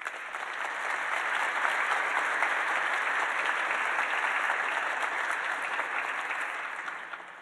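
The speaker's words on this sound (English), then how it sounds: "If we could have just another round of applause" Sustained applause from an audience at an astrophysics lecture, steady and full for several seconds before tapering off at the end.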